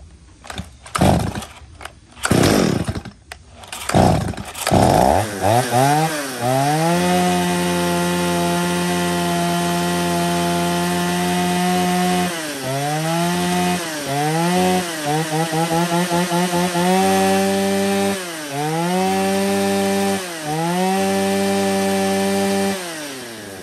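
A Stihl chainsaw with a 35 cm bar and 91 chain, a used Japanese import, starts with a few sharp pulls, then runs steadily and loud, its engine note dipping repeatedly as it bites into wood, with no talk.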